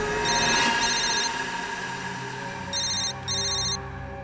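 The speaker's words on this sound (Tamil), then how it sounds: "ஃபோன் எடு, ஸ்பீக்கர்ல போடு." A telephone ringtone in a Tamil police crime drama about a jewellery robbery rings in two short bursts of repeated electronic tones over a steady background music bed.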